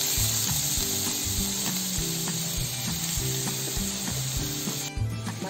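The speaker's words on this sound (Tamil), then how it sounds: "மஞ்சள் பூசணி போட்டுட்டோம், அதை லைட்டா வதக்கி விடலாம்" Yellow pumpkin pieces sautéing in ghee for a sweet pongal keep up a steady, close sizzle, with rhythmic scraping and stirring strokes throughout; no voices.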